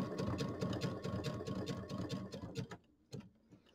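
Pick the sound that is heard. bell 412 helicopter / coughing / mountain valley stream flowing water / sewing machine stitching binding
sewing machine stitching binding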